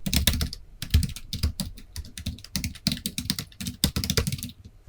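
A computer keyboard is typed on at close range while text is entered in Excel, giving a rapid, irregular run of crisp key clicks with brief pauses, alone and without talk.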